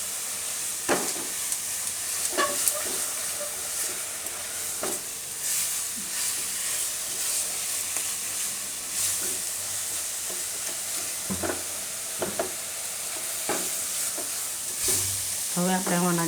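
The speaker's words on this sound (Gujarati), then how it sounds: "બધા મસાલા આ રીતે તેલમાં થોડીક વાર ફેરવી લેવાના" Ground spices being stirred in hot oil for a Gujarati dahi paneer curry, with salt and red chilli, giving a steady close sizzle broken by repeated scraping stir strokes and a brief crackle near the end.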